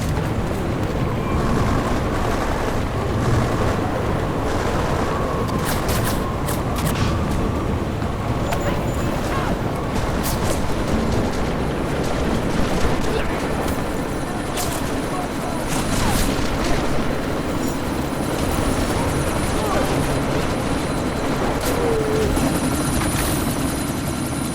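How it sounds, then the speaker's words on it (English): A helicopter in the video game Deus Ex Mankind Divided drones as steady, dense rotor and engine noise through a sandstorm, continuous for the whole stretch with scattered sharper bangs and no clear talk. "you need to disable that chopper"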